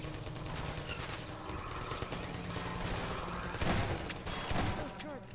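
Automated turret gunfire in the video game Half-Life 2: dense, continuous rapid bursts with sharper peaks later, loud and sustained, with a voice talking over parts of it.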